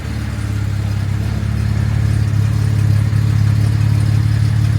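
A Jaguar MKII engine with untuned carburetors runs just after restarting, a loud close steady idle with a low throbbing rumble that rises slightly partway through, alone without talk.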